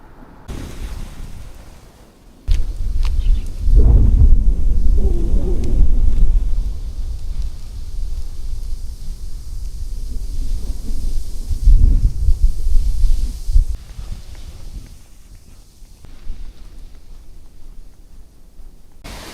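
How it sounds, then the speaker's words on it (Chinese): Strong wind gusting across a high mountain trail near 2600 metres in Dali, Yunnan, a loud rumbling roar that surges and eases in long waves over the whole stretch, with no talk. "这大风呼呼的"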